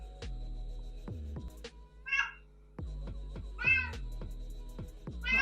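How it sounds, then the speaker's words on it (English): A cat at a door lets out several short, close meows between sharp knocks and thuds, with quiet gaps in between. "My cat's at the door."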